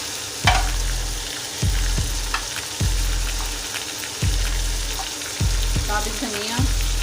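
Spices frying for chicken biryani get stirred in a pan: a steady loud sizzle broken by repeated spoon scrapes and clunks about once a second, close up.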